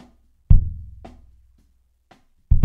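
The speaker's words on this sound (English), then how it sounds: "So this is just a kick soloed." Soloed kick drum recorded through a condenser microphone in a drum mix, struck twice about two seconds apart with a long boomy decay, plus faint cymbal spill ticks in between.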